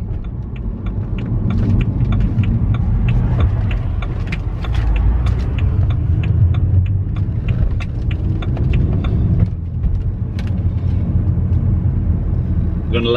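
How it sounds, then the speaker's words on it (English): A car passes along a road, heard from inside a BMW 130i as a steady, loud engine and road rumble that swells and fades over several seconds, with occasional faint voices. "Oh, and we have another car coming"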